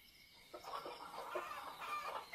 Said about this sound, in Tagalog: Iingay naman ng mga manok mo